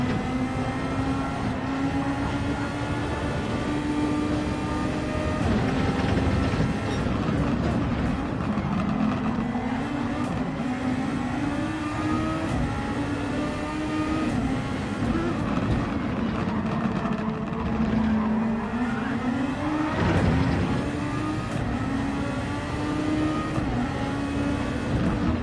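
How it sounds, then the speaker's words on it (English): A steady, droning race car engine in a Formula X video game race holds a constant pitch throughout, with slight pitch dips and surges as it shifts, under a continuous rushing noise. "I'll let you listen to the engine sounds as well."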